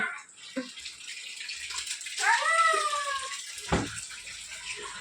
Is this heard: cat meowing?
yes